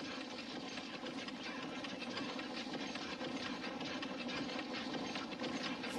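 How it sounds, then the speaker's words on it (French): A machine's main motor runs steadily after being engaged, a constant mechanical hum with hissing, faintly rattling texture holding at an even level throughout, with no talk. "Transformateur, connecté. Transformateur, connecté. Moteur général, engagé."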